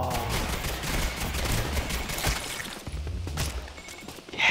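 Gunshots and bullets being fired in a dense, continuous volley, steady and fairly loud throughout, with no speech over it.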